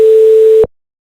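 Steady pure tone carrying an embedded watermark at alpha 0.01, with a faint layer of background noise under it, held loud for about half a second before stopping abruptly into silence.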